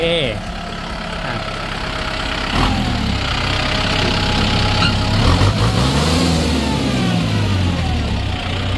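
A used Kubota tractor's diesel engine runs steadily close by, a low idle that rises and swells slightly partway through as if revved, with a voice briefly audible over it.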